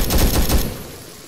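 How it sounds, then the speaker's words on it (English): Gunfire during a contact down a path: a rapid burst of several close, loud shots in quick succession, then an abrupt stop. "Oh, shooting, shooting"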